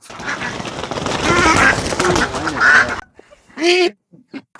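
Domestic ducks quack loudly and repeatedly while being handled and caught near a forest canal, harsh overlapping calls up close, then a pause before a final burst of quacks.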